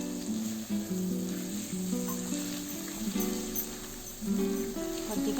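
Marinated chicken frying in a pan with cumin powder, a continuous loud sizzle with occasional stirring and scraping, steady throughout.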